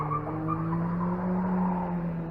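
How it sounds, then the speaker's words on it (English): Car tires squeal in a sustained, steady tone as a car goes around a bus at a traffic light. The sound is faint and heard from a distance in open air. "Nothing like squealing tires behind the bus"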